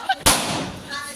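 A firecracker bursts once with a sharp, loud crack at a baby shower, followed by a brief fading rumble.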